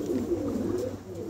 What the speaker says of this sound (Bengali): আজকে অল্প কিছু কবুতর দেখাবো